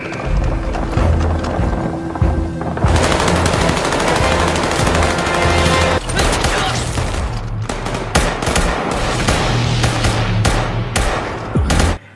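Sustained machine gun fire in a Squid Game 2 indoor shootout: loud, dense, continuous automatic bursts with heavy low rumble, briefly dropping off near the end.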